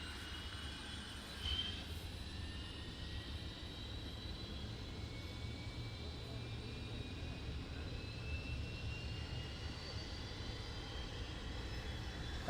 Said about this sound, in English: And you can hear number one engine rotating.